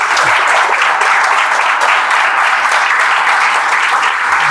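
Loud, sustained applause from a crowd at a gathering in India cheering a village's first IIT graduate, continuous dense clapping close to the recorder without pauses or speech.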